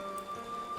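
Rain falls in the video game Final Fantasy XIV: Shadowbringers, a soft, steady patter under a sustained tone, brief and even.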